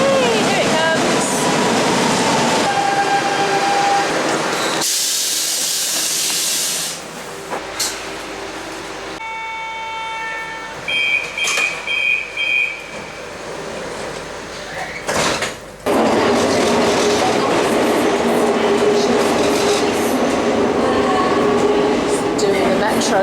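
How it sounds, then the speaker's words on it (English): A metro train arriving at a station in Portugal, with rumbling wheels on rails, a burst of hissing brakes and door chimes, then a loud rolling roar as it pulls in. People talk over parts of it. "Got about 6 minutes to wait for the metro."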